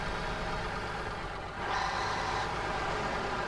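A heavy truck engine drones steadily while driving in the SnowRunner video game, with a brief dip then a rising growl and a faint beeping tone above it.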